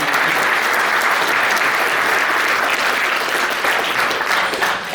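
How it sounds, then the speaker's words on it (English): Steady, dense applause from a crowd at a foundation fundraising event, continuous and fairly loud throughout with no speech over it. "So give yourselves a round of applause."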